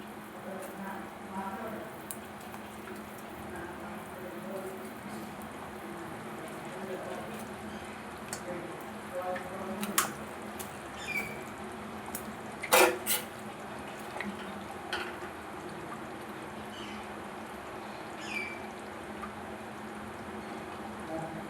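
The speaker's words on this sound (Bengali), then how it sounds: "আরো পাঁচ মিনিট ফুটিয়ে নেব" Fish kalia curry simmers in a pan on a gas flame, a low continuous bubbling with scattered pops and small clinks, fairly quiet and steady throughout.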